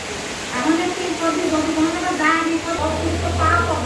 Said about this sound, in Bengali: তো দেখো প্রচন্ড আকারে বৃষ্টি হচ্ছে